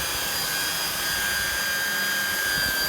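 A high-speed polisher buffing boat gel coat with compound, running as a steady, loud, unbroken whine and hum that continues close by without pause, alone with no talk.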